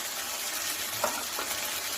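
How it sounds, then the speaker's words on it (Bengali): Ginger and garlic paste fries in hot oil for chili potatoes, a steady close sizzle with one brief stir near the middle. "সামান্য একটু ভাজা ভাজা হয়ে গেছে আদা রসুনের পেস্ট যেটা দিয়েছিলাম"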